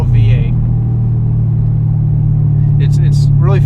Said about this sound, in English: Big old V8